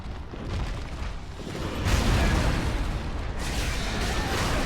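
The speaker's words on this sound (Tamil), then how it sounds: "அவனை ஃபயர் டேமேஜ் வச்சு அடித்து பார்ப்போம்." A fire-damage weapon attack in Dark Souls 3 erupts in loud, roaring fiery bursts, two surging waves of blasting noise that carry on without pause.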